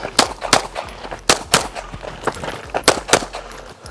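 Pistol shots ring out at training targets during a fast-paced practice drill, about nine sharp, loud cracks in quick pairs and bursts over a few seconds.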